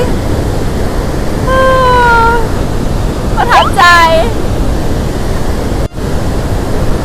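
A steady roar of Niagara Falls fills the clip, a broad constant rush of water falling onto rocks below, with a brief voice speaking over it and some high tonal calls in the middle.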